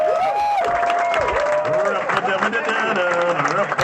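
An audience claps and cheers, with a few whoops rising over steady applause that holds loud the whole way through.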